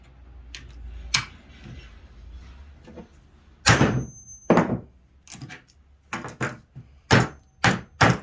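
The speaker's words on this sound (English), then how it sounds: "Quick smack. Like I said, once you knock that head loose, right on through it goes." Hammer smacks knocking nails through pallet wood, with vice grips also in use: about nine sharp, close knocks in an irregular rhythm, loudest in the second half, with no talking.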